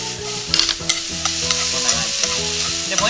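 Bean sprouts are stir-fried over high heat and tossed in a thickened steak sauce on a griddle, giving a continuous loud sizzle with repeated clattering scrapes of a spatula against the metal and no voices.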